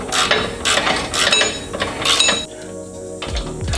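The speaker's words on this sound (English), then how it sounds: "So continue to unscrew the bolt until you get past the threads." Mechanical ratcheting and clinking while a bolt is unscrewed from the rear lower control arm of a 1999–2004 New Edge Ford Mustang, several busy bursts of tool noise that fall to a quieter rattle near the end.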